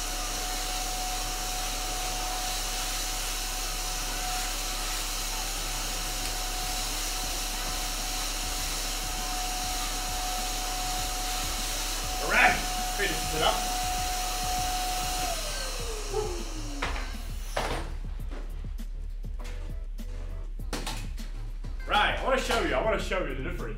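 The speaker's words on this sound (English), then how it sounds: "Vacuum cleaner from Philips works beautifully." A Philips vacuum cleaner runs with a steady, loud, even whirring drone for most of the stretch, then gives way to scattered clunks and knocks near the end.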